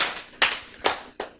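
A few scattered handclaps from a church audience, about four distinct sharp claps spaced across a brief moment, sparse rather than sustained applause.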